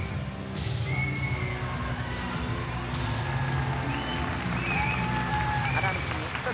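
A roaring arena crowd at a 1990 All Japan Women's wrestling show cheers as Bull Nakano walks the aisle toward a steel cage, a steady loud swell of shouts with whistles and music threaded through it.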